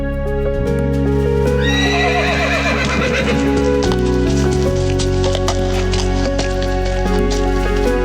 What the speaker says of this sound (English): The horse moves on its own.